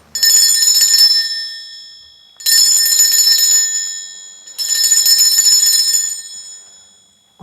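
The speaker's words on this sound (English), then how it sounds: "I'm going to be ringing this bell" A hand bell is rung in three loud, shimmering bursts, each ringing out and fading before the next, with a sustained metallic tone and no talking.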